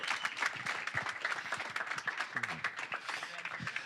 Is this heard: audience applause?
yes